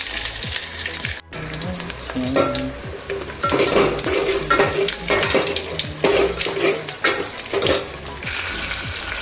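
Cumin, mustard seeds, garlic and chilli crackle and sizzle in hot oil for a tempering, with steady loud frying, popping seeds and occasional stirring clatter, no talk.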